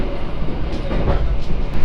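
A train rolls past alongside, a loud steady rumble of wheels and carriages with faint rhythmic clatter, heard close from a neighboring train.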